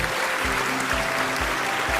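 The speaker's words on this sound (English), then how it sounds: "A virtual applause to Dr. Gilbert T. Sadsad." Recorded applause plays as a virtual welcome at the opening program of a school division film festival: a continuous wash of many hands clapping, steady and fairly loud, with faint low thumps pulsing underneath and no talking.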